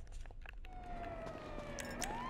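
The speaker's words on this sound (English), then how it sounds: "Police car." A police car siren wails faintly in the distance, a single sliding tone that rises and falls over about a second and a half amid soft background noise and a couple of brief clicks.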